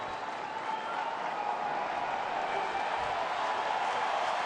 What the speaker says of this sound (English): So the crowd energized by that double play.